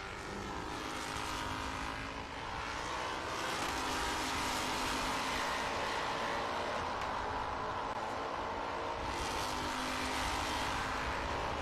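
F4 single-seater race cars at Barber Motorsports Park during the F4 U.S. Championship race, a loud sustained engine roar of cars running together on track, swelling as they pass.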